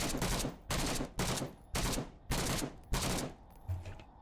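Automatic weapon fire in the shooter game SCP: Pandemic, six sharp sustained bursts in a steady rhythm with brief gaps, loud and close, with no talking.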